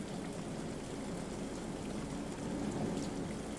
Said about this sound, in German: Regnet schön, es regnet sehr nett.